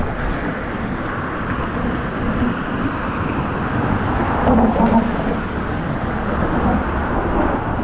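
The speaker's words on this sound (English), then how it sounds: "So all these cars here, they're exiting the city now" Cars stream across the Golden Gate Bridge heading out of San Francisco, a continuous low roadway rumble and tire hiss with a vehicle swelling slightly louder as it passes midway.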